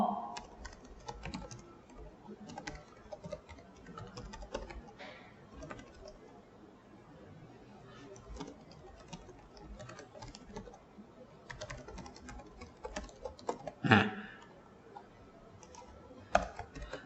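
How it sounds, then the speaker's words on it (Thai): A title is typed on a computer keyboard in a steady, close stream of key clicks with brief pauses and a sharper tap or two, with a voice talking quietly underneath. "ผมก็พิมพ์ตั้งชื่อเรื่องไปเ ลยเนาะ"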